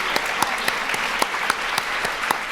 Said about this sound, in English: Can we get another big round of applause for Highbridge voices